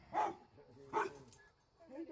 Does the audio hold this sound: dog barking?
yes